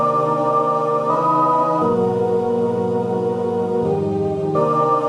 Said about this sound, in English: So this one is basically creating the Daybreak sample from Distorted Reality.